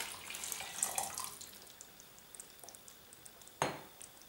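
Shrimp cooking water is poured into a pot of barley soup, with a splashy pour early and a brief sharp splash near the end over faint kitchen clinks and drips; no talking.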